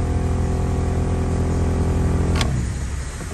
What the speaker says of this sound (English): you can hear the blower motor is going bad